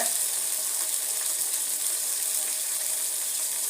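About a glass of water with a little carrot boils in a pot for idli upma, making a steady, close bubbling hiss that continues evenly throughout.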